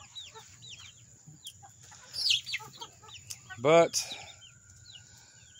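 Several chickens cluck and squawk in short bursts, one loud outburst standing out, over a low background hum with a brief spoken word.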